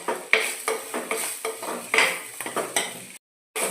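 Salt and spice powder being stirred into fish puttu in a pan, the spoon scraping and clinking against the metal in a steady rhythm of close, repeated strokes before a sudden cutoff.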